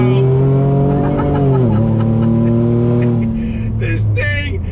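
A Ford F-150 RTR with an EcoBoost engine and MagnaFlow exhaust accelerates hard, a loud, steady engine drone rising through a gear change, heard from inside the truck with faint voices near the end.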